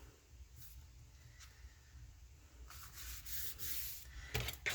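A paper fold on a handmade farm folio pressed flat with a burnishing tool, producing soft close rubbing and scraping strokes that grow louder and rougher toward the end.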